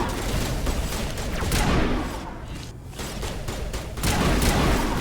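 Rapid bursts of gunfire from the Mass Effect video game crackle loudly and continuously, dense volleys with heavy thumps, easing briefly in the middle before surging again.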